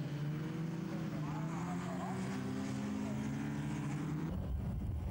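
Racing cars, including a Peugeot with a 1.9-litre engine, lap the Jyllandsringen circuit during the 1992 Goodyear Eagle Cup: a steady, droning engine roar holds for about four seconds, then cuts away abruptly.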